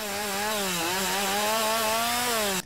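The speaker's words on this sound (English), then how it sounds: "And then chainsaw." A chainsaw cuts wood in the video game Lumberjack Simulator, with a steady, loud buzzing whine that dips slightly in pitch under load and then cuts off abruptly.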